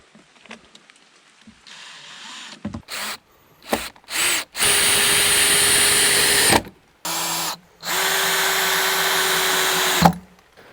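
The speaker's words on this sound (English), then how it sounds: "So I'm just going to use two 75mm screws on each side of the box, and that will secure the box completely to the tree." Cordless power drill driving 75mm screws through a barn owl nest box into a tree, two sustained whirring runs near and loud, preceded by short clicks and trigger bursts.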